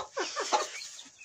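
Agitated Cochin chickens in a coop, clucking in a quick burst of several close, rough squawks with no talk.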